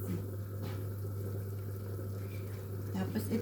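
Water pours steadily into a cooking pot to be boiled for pansit, a continuous low splashing wash over a steady hum.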